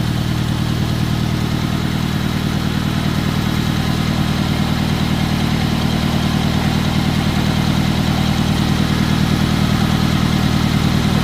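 A 1950 Farmall Cub tractor engine runs steadily at idle with an even, fast putter and light mechanical clatter, close and constant, with no voices, as it burns down its remaining fuel.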